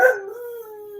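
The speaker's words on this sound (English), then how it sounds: "I think the dog is not too happy with that." A dog lets out a single close, loud howl that starts sharply and then holds a long, steady, wavering tone that slowly fades, with no talking over it.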